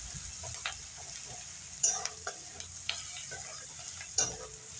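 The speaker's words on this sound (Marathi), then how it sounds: "हळद टाकून पुन्हा हे छान आपण परतून घ्यायचं आहे" Chopped onion sautéed with turmeric in a pan, a soft low sizzle broken by several sharp spatula scrapes and taps against the metal, with no talking.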